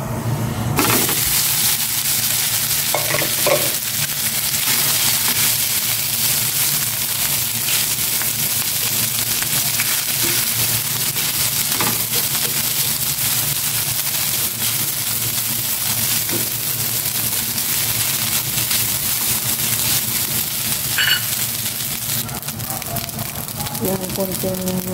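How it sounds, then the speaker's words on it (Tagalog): Rice stir-frying in a pan with garlic already sautéed: a steady, loud sizzle and crackle that fills the whole stretch, with a few scraping knocks of a utensil and a voice now and then over it. "Isangag ko na itong kanin naman."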